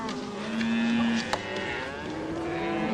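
Cattle on a ranch give a drawn-out moo up close, followed by fainter lowing in the background.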